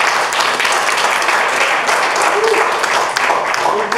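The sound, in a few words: audience applause for Uday at book launch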